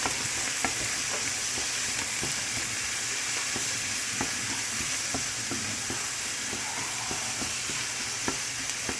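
Garlic, onions and shrimp stir-fried for fried rice with spam, a dense continuous sizzle with frequent ticks and scrapes of stirring close by, no speech.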